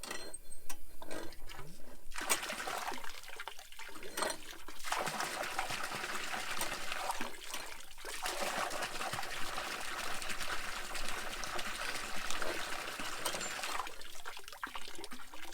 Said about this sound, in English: This stock tank here, it's hard to determine how much water is really coming out.